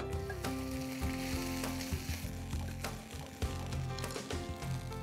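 Rice tumbles into a pan where split black gram and peanuts are frying, with a continuous close sizzle and scattered stirring clatter against the pan.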